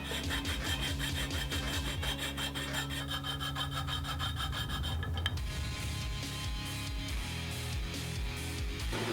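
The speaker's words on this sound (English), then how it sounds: "I ended up drilling 2 holes in each one and then just connecting them with the jigsaw to make a relatively square hole before I filed it out square" A jigsaw, then a file, cut and square out a hole in a bar for a full-suspension snow sled frame, giving steady, close rasping strokes with a dense rhythmic buzz that changes character midway.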